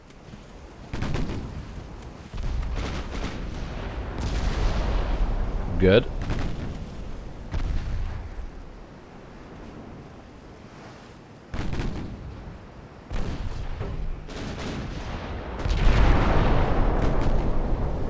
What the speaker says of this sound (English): 7-inch guns are being a little bit effective. 11-inch guns are being very effective.